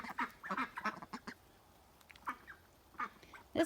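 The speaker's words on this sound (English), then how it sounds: "Ducks." Several ducks quack in quick bursts close by, pausing between short clusters of calls.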